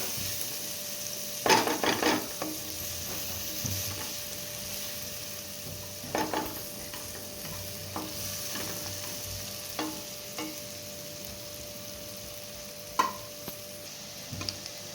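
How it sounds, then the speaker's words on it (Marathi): Finely chopped onion sautéing in a pan for palak paneer, a steady close sizzle broken by scraping stirs and occasional clicks of a spoon against the pan, with no talking. "बारीक चॉप केलेला कांदा टाकून घ्यायचा आहे कांदा परतायला घ्यायचा आहे"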